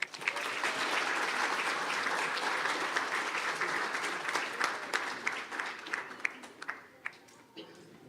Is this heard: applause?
yes